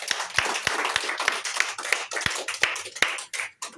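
Congregation clapping hands together at a Christian prayer meeting, a close, fairly loud run of sharp irregular claps that thins out and stops near the end.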